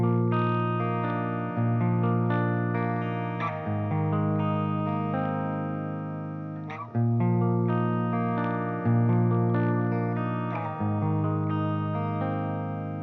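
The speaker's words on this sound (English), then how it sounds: "So this is the clean channel with no effects." Clean electric guitar played through an EVH 5150 III 50-watt head's clean channel with no effects, ringing sustained chords with steady strummed changes every couple of seconds, close and full, no talking.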